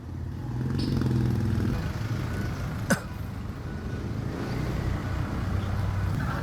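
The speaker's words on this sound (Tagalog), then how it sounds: "may dumating na dalawa nakamotor" Two people arrive on motorcycles in Lipa City, their engines making a low, steady rumble at middle distance with a brief sharp knock partway through.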